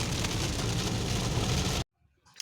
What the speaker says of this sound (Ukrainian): Дощ, звісно, навіть дорогу погано видно.